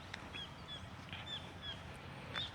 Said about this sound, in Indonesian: Ini ada suara burung, apakah terdengar di sana?